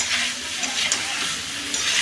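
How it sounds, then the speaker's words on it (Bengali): Masala fries in a pan with fried potatoes, tomatoes and green banana, giving a loud, continuous sizzle with light stirring scrapes, close and steady, without talk. "সেই মশলা কষিয়ে তোমার ভাজা আলু, টমেটো আর কাঁচকলাটাকে ছেড়ে দিয়েছি।"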